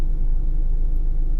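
A 1998 Mazda Protege with a 1.5-liter engine, which has an idle surge and high idle fault, idles as a loud, steady low rumble with no speech over it.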